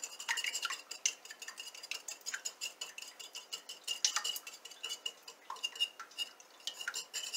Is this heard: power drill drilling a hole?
no